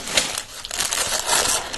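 A plastic bag holding Lego pieces from a Star Wars Imperial Shuttle Tydirium set crinkles and rustles close by in quick, uneven bursts, with a faint voice in the background.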